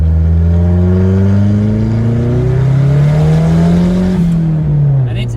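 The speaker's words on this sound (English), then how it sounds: "This small engine that only goes on when the boost kicks in" Small turbocharged engine of a Nissan 180ZX running loudly up close, revving up with a steadily climbing tone over several seconds before easing off near the end.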